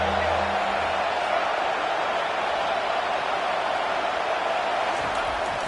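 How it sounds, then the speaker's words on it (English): College football stadium crowd cheering on third down, a broad steady roar of noise filling the stands, loud and sustained throughout with a faint voice near the start. "Defense getting a boost from this crowd on 3rd and long."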